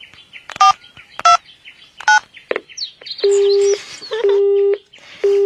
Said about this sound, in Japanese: まあ一応電話しとこっかな。